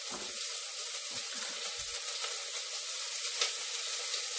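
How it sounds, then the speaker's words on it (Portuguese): Bacon and onion sizzling in a hot pot for feijoada, a continuous bright hiss and crackle that holds steady throughout, close and even, with no speech over it. "Como o caldeirãozinho meu tá bem quente, então ele já tostou o bacon ali."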